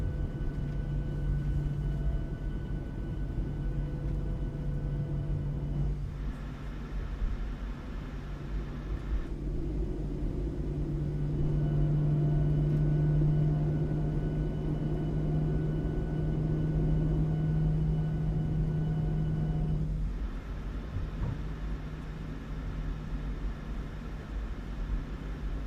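Jet engines of a PMDG 737 in a flight simulator spool up on takeoff, giving a steady rumbling drone with a strong low hum. The drone swells louder through the middle stretch, then settles back, with no talking.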